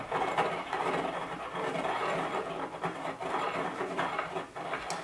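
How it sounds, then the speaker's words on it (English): Pestle grinding crushed tablets to a fine powder in a mortar for capsule compounding, a steady gritty scraping and rubbing that runs continuously and close up, with no talking. "You still need to triturate to a fine powder."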